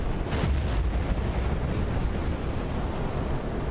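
Aerial bombs exploding near a tank in War Thunder, a deep sustained roar of blasts with rumbling low end, loud and dense throughout, no talk.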